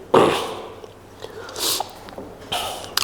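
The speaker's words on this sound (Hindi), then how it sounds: "एक मिनट चाय की चुस्की ले लेने दीजिए," Someone takes a sip of hot tea with a few close, breathy slurps and short sucking bursts, separated by quiet pauses in a room.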